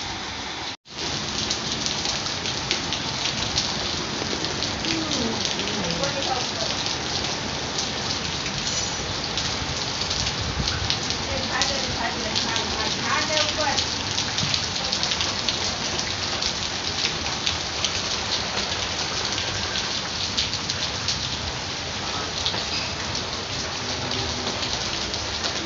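Heavy afternoon rain pours down during a thunderstorm: a dense, unbroken close roar of drops lasting throughout, with no voices.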